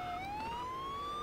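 A police siren in the Roblox Vehicle Simulator game wails steadily, its pitch sweeping slowly upward in a continuous electronic tone, loud and clear with no talk over it.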